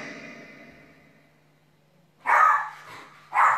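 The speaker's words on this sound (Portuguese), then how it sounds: "A cadela está a ladrar, o que é que se passa?" A female dog barks twice at home, two short loud yelps after a fading sigh-like sound, close and alone with no talk over them.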